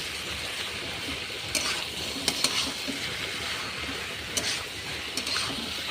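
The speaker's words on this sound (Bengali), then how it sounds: "দেওয়ার পরে ভালো করে একটু ভালো করে নাড়িয়ে চাড়িয়ে একটু কষিয়ে নেব" Spices and turmeric powder sizzle and fry in a pan for a Bengali shukto, with steady crackling and a few sharp scraping clicks as the spatula stirs. No voices are heard.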